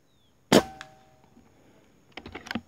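A PCP air rifle, the Urko III, fires a single loud, sharp pellet shot that rings briefly, followed about 1.6 seconds later by a cluster of faint clicks and knocks.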